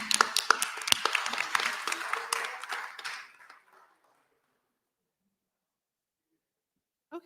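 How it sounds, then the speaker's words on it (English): Attendees at a California reparations task force meeting give a brief round of applause, a small group clapping close and unevenly for about three seconds before it fades into silence. "Just give everyone a round of applause."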